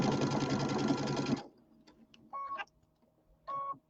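Sewing machine stitching a seam along the side of a pillow, a loud steady motor whir with rapid needle clatter for over a second, then stopping, followed by a few faint clicks and short soft mechanical buzzes.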